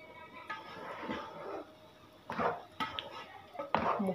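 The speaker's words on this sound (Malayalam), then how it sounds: "ചോറൊന്ന് ഇളക്കി കൊടുക്കാം." Rice for prawn biryani is stirred in a pot with nuts and oil, producing soft scraping and clinking of a utensil against the pot in a few quiet, irregular strokes, faint and close.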